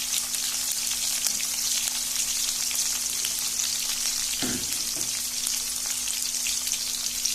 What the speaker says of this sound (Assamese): আলুখিনি মই এতিয়া হাফ ফ্ৰাই কৰি লম।